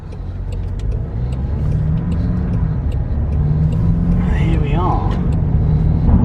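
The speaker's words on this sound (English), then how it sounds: "So I believe this is the 2-litre engine." A 2020 Land Rover Defender with a 2-litre engine drives on the road, giving a steady low cabin rumble and engine drone throughout while a person talks over it.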